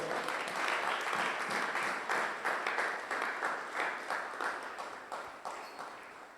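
A church congregation at a Sunday worship service claps together in a steady rhythmic beat, sustained and moderately loud throughout, with no clear speech over it.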